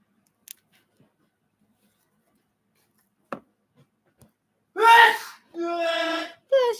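A single sharp sneeze bursts out after near silence and a few faint clicks, followed closely by a voice speaking.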